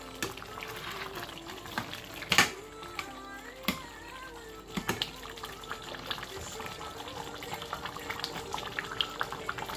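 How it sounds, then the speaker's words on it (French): White cabbage and okra sauce simmers uncovered in a pot, bubbling and popping unevenly with scattered wet blips, close and moderately loud. "Vous laissez cuire 1 heure sans le couvrir."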